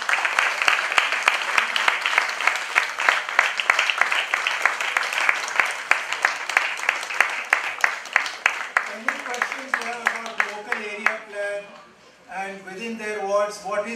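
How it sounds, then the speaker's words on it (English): A seated audience gives steady, sustained applause for ward planners in a hall. The clapping fades near the end as people start talking. "You all just please stand up for a round of applause."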